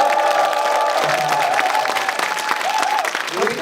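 An audience at a live talk show applauds, a dense, steady wash of clapping with some cheering and scattered shouts mixed in, continuous for a few seconds.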